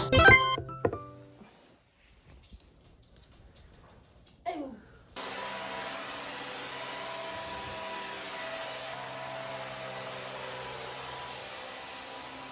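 During house cleaning, a few quiet knocks and clatters give way to a vacuum cleaner switching on and droning steadily at a close, even level for several seconds.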